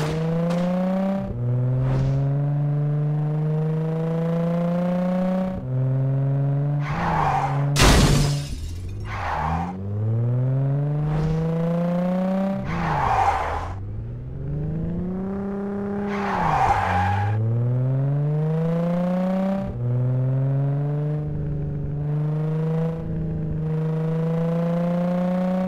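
A car in the video game Gangstar Rio drives hard with repeated revving, rising engine tones and gear shifts, broken by loud tire skids and squeals and a crashing impact along the way.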